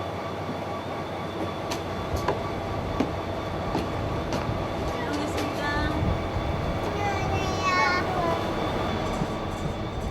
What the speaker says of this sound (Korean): 그런 엄마의 마음을 아는지 모르는지 기차는 어김없이 들어옵니다.